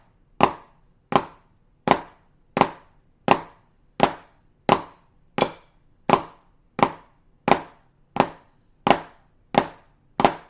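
Band students play snare drum flams together, about fourteen sharp, evenly spaced hits with short ringing decays, moderately loud against silence.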